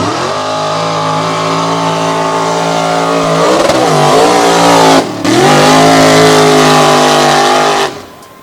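An unlimited class drag race car makes a pass, a loud sustained engine scream climbing in pitch with a brief dip midway before cutting off at the end.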